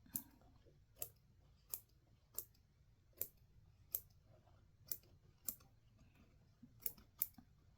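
Scissors snip thread tails on the back of a machine-embroidered design, about a dozen faint, crisp clicks at a roughly even pace in a quiet room.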